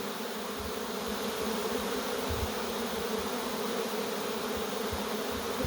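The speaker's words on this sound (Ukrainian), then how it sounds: "Рій. Утіче він чи не втіче? Випускаю." A swarm of bees let out of a bucket buzzes as a dense, steady drone close by, with no talk over it.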